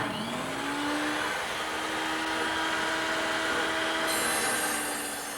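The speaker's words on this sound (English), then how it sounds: "cut some wooden sticks to separate our bulkhead from our mica. Bert, you want to go ahead and do that on the table saw?" A table saw cuts solid wood spacer sticks of pine or oak for a boat cabin bulkhead, giving a steady loud whining rip that runs the whole stretch with a rising tone near the start and no talk.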